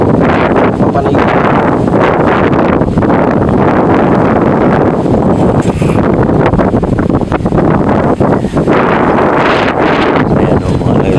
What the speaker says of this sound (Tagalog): Ayan o, mga laglag medyo mahangin.